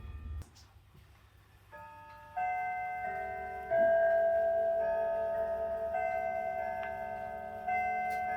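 A tall walnut grandfather clock with triple chime and moon phase ticks steadily and close by, with sustained chime tones ringing and decaying over the ticking.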